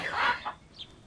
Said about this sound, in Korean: 이 닭들을 파신다고요?